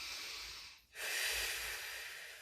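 Breathing during a held knee plank in a Pilates session: one long close airy exhale, a short pause, then a second long breath, heard alone without talk.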